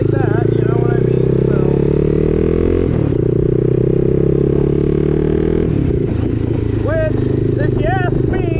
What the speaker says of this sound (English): If you ask me, that's what this exhaust sounds like.